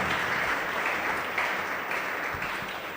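Steady applause from an audience honoring pitch competition participants at a student entrepreneurship program session, dense and sustained at an even level for the whole stretch.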